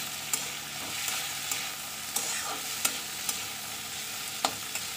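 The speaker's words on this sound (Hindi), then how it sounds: "और उसमें ये चने हमें इन्हें अच्छे से भुनना है।" Chickpeas roast and sizzle in a pan on the stove while a spoon stirs them, with a soft continuous frying hiss and a sharp scrape or clink about once a second, fairly quiet with no voices.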